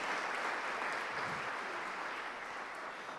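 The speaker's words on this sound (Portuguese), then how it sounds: "Você pode aplaudir o Senhor, meu irmão?" A church congregation applauds the Lord, a continuous, fairly soft wash of many hands clapping that holds steady for a few seconds and eases off slightly at the end.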